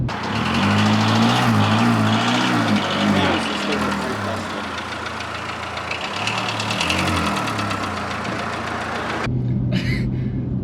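A used first car idles with a steady, loud engine drone and a fine repetitive tapping running through it, close up, with voices talking over it before the sound cuts off near the end.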